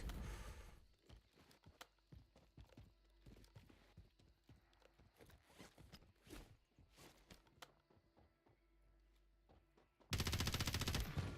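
Rapid bursts of gunfire from a Bruin gun in a first-person shooter game, dense irregular cracks and volleys over roughly ten seconds, ending in a loud sustained blast of noise.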